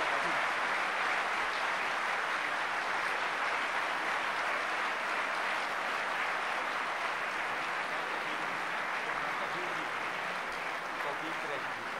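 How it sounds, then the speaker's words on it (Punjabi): A large concert audience claps steadily at a tabla performance during the Satguru Jagjit Singh Sangeet Sammelan, the applause a dense unbroken roar from start to finish. "ਇਹ ਤਾਲੀਆਂ ਦੀ ਨਿਰੰਤਰ ਗੂੰਜ"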